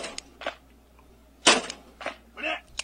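Gunshots in a short Russian video clip, several sharp cracking bangs at uneven intervals, moderately loud, with quieter background sounds between them.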